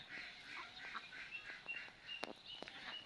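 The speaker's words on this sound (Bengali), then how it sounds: "এই যে হাঁস বতক খেলা করছে" Ducks playing near a village pond give faint, scattered quacks and short calls against a quiet rural background.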